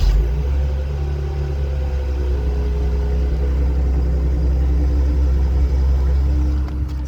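A 2022 Jeep Grand Cherokee L with a 3.6-liter Pentastar V6 idles steadily, a loud, close, low rumbling drone on a hot summer day.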